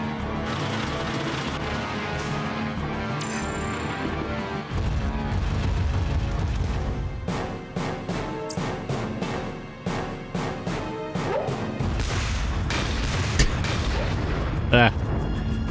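Cannon fire from the mecha game Front Mission 4 sounds as a series of heavy booms and crashes, some close together and some spaced apart, over rumbling game effects and background music.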